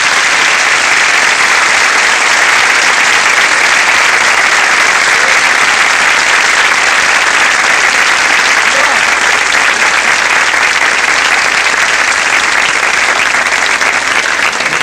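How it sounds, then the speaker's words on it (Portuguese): A TV studio audience gives a long, loud, sustained round of applause, dense and even from start to finish with no pause. "Uma salva de palmas aqui."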